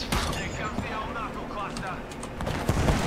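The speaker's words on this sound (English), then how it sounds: "They're shooting at each other." Rapid gunfire crackles continuously in an Apex Legends trios match, dense overlapping bursts from a firefight that run through the whole moment and swell louder near the end, with excited talk over the shooting.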